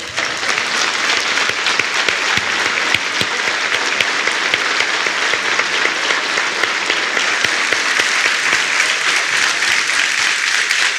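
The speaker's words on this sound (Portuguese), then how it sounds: "os homens vão ficar de pé e aplaudir de pé essas mulheres" A church congregation, with the men on their feet, claps in loud, sustained, dense applause that fills the room steadily and never pauses.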